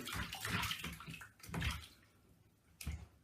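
Water splashing and pouring while a dog is washed in a tub, close gushes and sloshes in bursts with pauses between them, no talk over it.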